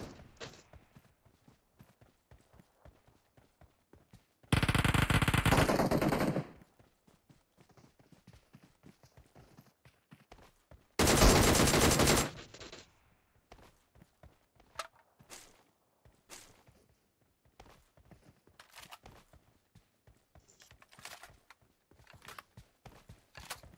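Automatic gunfire in the battle-royale shooter PUBG Mobile rattles out in two loud, sustained bursts, separated by stretches of quieter in-game footsteps and small clicks.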